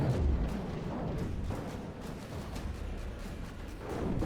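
Battleship cannons fire repeatedly in From the Depths, a steady barrage of booming shots and impacts with no pause, rumbling heavily in the low end.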